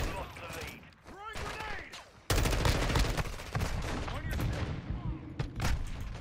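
Gunfire in the video game Call of Duty Modern Warfare 2, scattered shots at first, then loud dense rapid fire with bursts continuing throughout.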